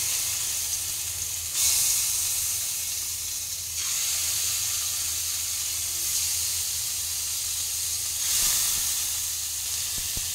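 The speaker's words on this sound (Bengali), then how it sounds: "তেলটা গরম হয়ে গেছে, আমি এবার মাছের ফিলেগুলো ভেজে নেব।" Bhetki fish fillets fry in hot oil in a pan, giving a steady sizzling hiss that swells at intervals and runs unbroken with no voices.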